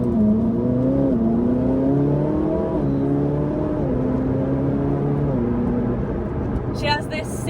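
A Ferrari 458 Spider's V8 engine drones steadily with a rising and falling tone while driving, a close, loud, sustained note under talk, with a brief chirp near the end.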